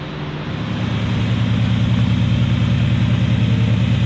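A Ford car engine with a redone exhaust idles steadily with a deep, even rumble, its exhaust fairly subdued, running on without a break.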